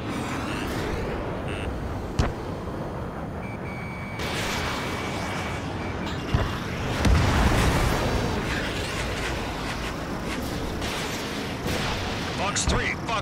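Missile strikes in the Ace Combat 7 multiplayer jet game, flying an F-35C, land as sharp explosive bangs over a dense, continuous roar of engine and combat noise, with a few heavier blasts around the middle.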